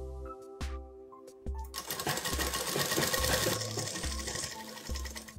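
A sewing machine stitches a plazo (Indian wide-leg trousers), first in a few short bursts and then running steadily for several seconds, close and fairly loud, with no talking.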